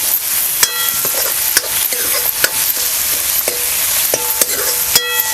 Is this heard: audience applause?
no